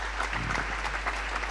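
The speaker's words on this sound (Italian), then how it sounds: "Meritano un applauso" An audience claps steadily in a church during a poetry recital, a dense, continuous patter of many hands filling the space throughout.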